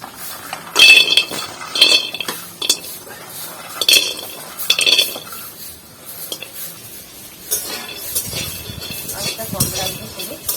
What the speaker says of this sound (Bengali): তো একসাথে এগুলো একটু ভেজে নেব